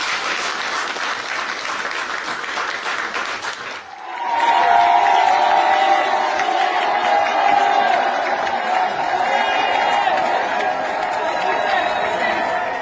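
A church congregation claps, then cheers and shouts in acclamation of the Lord, the applause giving way to a loud, sustained roar of many voices with whoops and chatter.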